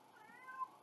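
A single soft cat meow, faint and drawn out for under a second, rising slightly before it fades, with no talking over it.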